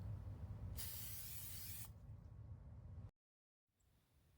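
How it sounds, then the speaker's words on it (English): A continuous hiss of butter-flavored cooking spray onto an air fryer crisper tray lasting about a second, close by, followed by quieter background and a brief silence. "I'm just going to put a little bit of butter flavored cooking spray onto the crisper tray."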